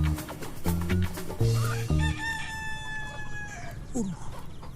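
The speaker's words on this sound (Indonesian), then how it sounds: "Kayak ada ayam lagi." A rooster crows loudly and close by, with chicken clucking around it, while people talk over part of it.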